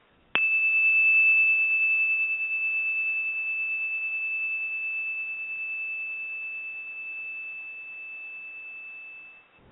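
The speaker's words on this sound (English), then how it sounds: "I have this chime, so I'm just going to play the chime really close to my microphone" A chime struck right up against the microphone rings out once as a single pure sustained tone, loud at the strike and fading slowly over about nine seconds, alone with no talking.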